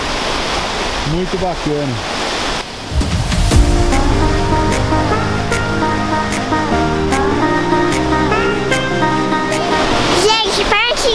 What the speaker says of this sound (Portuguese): E a cachoeira é ali, ó. Ali na frente